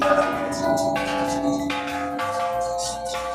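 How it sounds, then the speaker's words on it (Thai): Temple bells at a rest stop on the walk up the Golden Mount are struck lightly, giving several bright, overlapping ringing tones in close succession that decay slowly. "ด้านข้างนะครับก็มี ระฆัง อืมระฆัง จะเป็นธรรมเนียมที่เรามาวัด"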